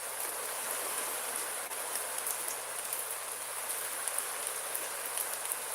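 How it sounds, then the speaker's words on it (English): Heavy rain pours down steadily outdoors, a dense even hiss of drops drumming on surfaces, fairly soft and continuous with no voices. "That rain's coming down a lot harder than I thought it was going to."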